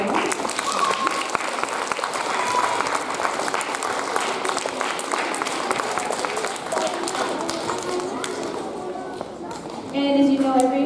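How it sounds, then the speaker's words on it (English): Audience at a K-6 school assembly in Windsor Schools bursts into sustained applause, a dense steady roar of clapping that fills the room before fading toward the end. "So if we could just give a quick round of applause"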